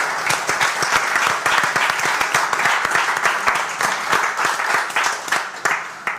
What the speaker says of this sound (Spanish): un merecido aplauso para vosotros y para vosotras